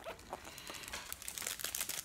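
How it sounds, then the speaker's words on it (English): Plastic wrapper crinkles and rustles up close in quick, irregular bursts, fairly quiet with no talking. "A wrapper."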